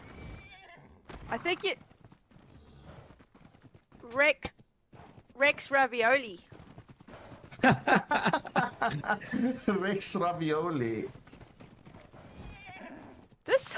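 An equus mount in the video game ARK: Scorched Earth whinnies in several bursts, with clip-clopping hooves between the calls, close and fairly loud amid the players' talk.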